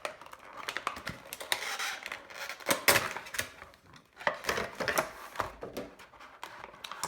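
Plastic and cardboard packaging of a Funko Pop Slash vinyl figure is handled and torn open, giving close, irregular crinkles, taps and clicks in quick bursts with no talking.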